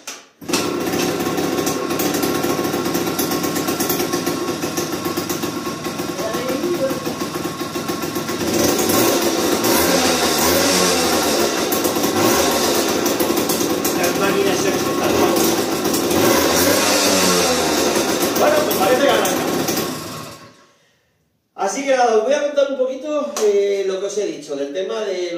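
Moped engine starting up and running with a steady, buzzing small two-stroke drone that holds for about twenty seconds, close and loud, then cuts out abruptly.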